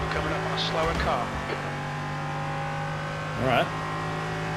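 Race car engines in a racing video game drone steadily with a high, constant tone, under bursts of close talk and brief engine swells as cars run in traffic.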